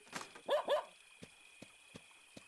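A dog named Duke in the game Dark Rites of Arkham gives two quick close barks, followed by a few faint, evenly spaced soft thumps over a quiet background hum.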